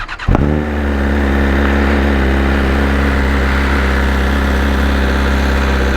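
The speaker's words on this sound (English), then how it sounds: "it's probably the last time you're gonna hear the stock exhaust before the headers" BMW S1000RR sport motorcycle on its stock exhaust fires up with a sharp crack, then holds a loud, steady, close engine note for several seconds.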